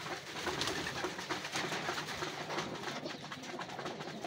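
Racing pigeons at a derby loft in Tagudin, Ilocos coo softly and repeatedly after being fed, a close, continuous murmur of overlapping calls with faint rustling.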